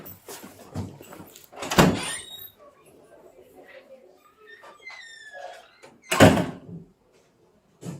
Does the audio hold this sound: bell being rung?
no